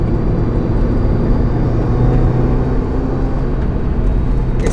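Subaru WRX Limited engine pulling in third gear around 4,000 rpm, a steady loud low drone with road rumble heard from inside the car, no speech.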